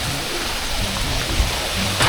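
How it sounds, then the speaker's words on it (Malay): Heavy rain pours down steadily at a lake during a fishing outing in Semenyih, a dense, constant wash of hiss and patter close by with no voices. "hujan lebat guys"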